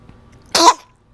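A single short, sharp sneeze bursts out close and loud after a quiet moment, then fades into silence.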